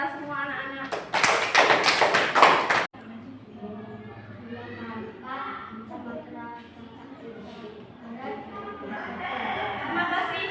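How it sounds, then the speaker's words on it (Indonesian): Schoolchildren in a classroom applaud in a quick, loud burst of clapping that lasts about two seconds, then stops abruptly as a voice and quieter classroom chatter take over. "beri aplaus buat kita semua anak-anak"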